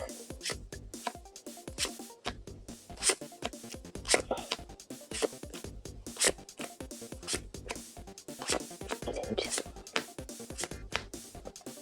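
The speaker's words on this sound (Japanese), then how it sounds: "自分のデッキをレベル4以下の黄色のキャラが出るまで1枚ずつめくっていきます。" Cards from a Detective Conan trading card game deck flipped over one at a time on a table, a string of soft, close papery snaps and slides at an irregular pace, with a person talking over them.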